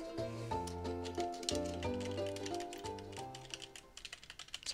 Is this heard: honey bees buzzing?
no